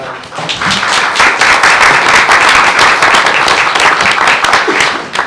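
A crowd claps steadily and loudly, sustained applause that holds throughout before tapering slightly at the end.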